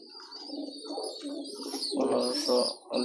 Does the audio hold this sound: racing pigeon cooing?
yes